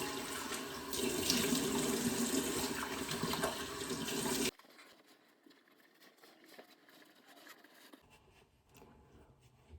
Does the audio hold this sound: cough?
no